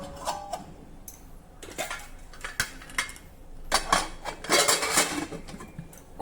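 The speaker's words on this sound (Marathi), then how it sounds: "कुकरचं झाकण बंद करून घेतलं।" A pressure cooker lid is fitted and locked shut over chickpeas for chole pulao, giving a run of close metallic clinks and clatters spread over several seconds, with no talk.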